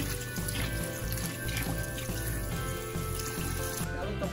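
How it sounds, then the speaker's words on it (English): Water pours and trickles onto rock wool cubes holding lettuce seeds in a hydroponic germination setup, a steady, fairly quiet splashing flow that continues without a break and tails off at the end, with no voices. "all I'm doing here is just basically adding water and just wetting the rock wool"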